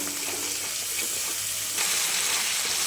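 Masala spices sizzle in hot oil in a pan for a potato and pea curry, a steady close-up hiss of frying that runs unbroken and grows slightly brighter toward the end, with no voices.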